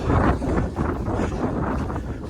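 Strong wind on an exposed hill buffets the microphone in a loud, continuous roar with gusty swells, with no other sounds.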